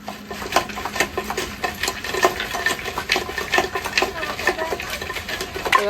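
Steel kulfi containers stirred in salted ice inside a pot, making a steady, fast rattle of close clinks and icy scraping that goes on without a break, with faint voices underneath.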